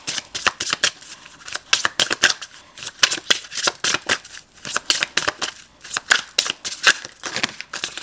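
A tarot deck is shuffled by hand in quick, crisp riffling bursts with short gaps between them, close and fairly loud.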